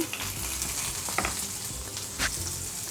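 Crushed ginger and green chilies fry in a pan for a traditional Rajasthani dal bati tadka, giving a continuous close sizzle with a few sharper crackles and stirring scrapes, and no talking.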